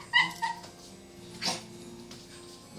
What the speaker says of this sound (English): The French commander's dog is still whining in the background